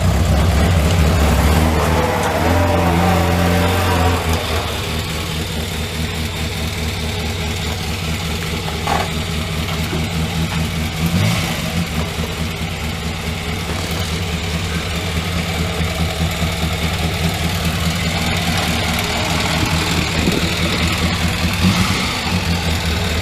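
A 1968 Morris Minor 1000 idles cold in Montreal, its engine holding a steady, close low rumble with a slightly uneven throb, running alone without talk.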